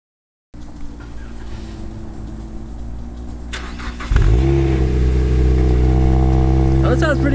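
A Mazda Miata engine cranks and catches after a brief silence, then settles into a steady idle and is revved with rising and falling pitch, loud and close, with voices talking over it.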